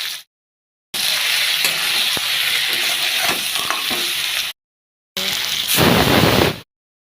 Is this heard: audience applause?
no